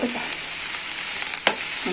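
Banana stem and lentil curry stirred in a pan, a short burst of continuous bubbling sizzle with a scrape of the spoon near the middle, close up.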